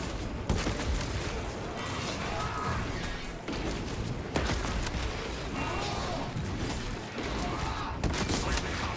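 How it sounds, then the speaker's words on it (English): Dense, rapid gunfire from Space Marine 2 keeps up a continuous roar with a few heavier blasts punching through. The firing is loud and unbroken throughout, as in a busy battle. "these guys have been firing way faster"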